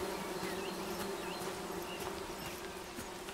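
Steady buzzing of bees in the video game Among Trees, a continuous insect drone holding at an even, moderate level throughout with faint chirps and small ambient sounds above it.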